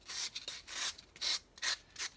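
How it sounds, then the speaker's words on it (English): A sandpaper block rubs around a model castle tower in about six short, even strokes, a soft, close, dry scratching with brief pauses between passes. "just take my sandpaper block and I'll just go around it like this"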